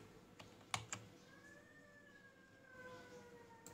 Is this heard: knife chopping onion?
no